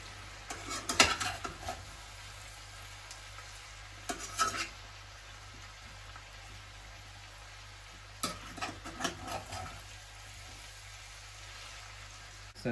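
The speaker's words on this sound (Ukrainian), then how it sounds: "Це наша картопля смажиться вже 10 хвилин під кришкою." Potatoes frying softly in a pan, with a few bursts of scraping and clinking as they are stirred, separated by quieter stretches of sizzle.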